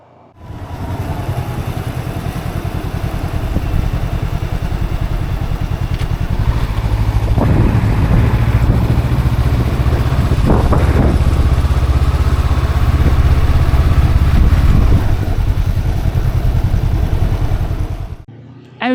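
Steady motorcycle engine drone while riding through rainy Alaska, loud and continuous with a rising rumble midway and a brief clatter, close to the rider.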